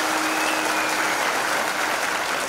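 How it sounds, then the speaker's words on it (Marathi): Audience clapping at a Marathi kirtan, a dense steady wash of hands filling the whole moment, with a faint sustained tone underneath. "टाळी तर वाजले."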